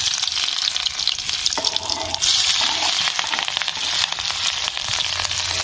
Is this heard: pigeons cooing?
no